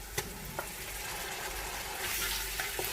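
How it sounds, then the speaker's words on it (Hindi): Beef frying in a pan with onion, ginger and garlic, giving a steady sizzle with a few sharp pops and stirring clicks, close and moderately loud throughout with no voices. "अब इस बीफ को प्याज और अदरक लहसुन के साथ फ्राई करेंगे"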